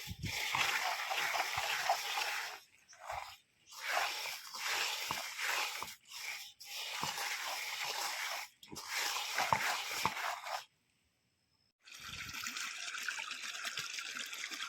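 Irrigation water runs into coriander field plots, a close, quiet rushing and splashing flow in uneven surges with brief drops and one full pause before it resumes.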